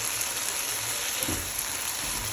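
Curry with green chillies frying in a pan, a steady even sizzle with one brief soft stir near the middle, no talk.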